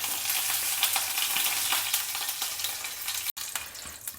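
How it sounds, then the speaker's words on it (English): Mustard seeds, a cube of hing and curry leaves frying in sesame oil for South Indian puli milagai: a steady, loud, crackling sizzle with light stirring, briefly cut off near the end, no speech. "Let the hing fry well in the oil."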